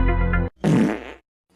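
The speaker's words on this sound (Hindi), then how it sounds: "गर्मी में पाद रहा हो" A single loud, drawn-out fart of about half a second, heard on a hot summer night, comes right after a stretch of talking and ends in silence.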